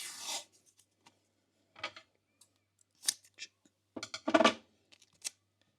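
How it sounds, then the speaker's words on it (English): Scissors snip through painter's tape in a few short, crisp bursts with quiet gaps between them, close and fairly loud, with one denser run of cuts near the end. "let's cut out another painter's tape"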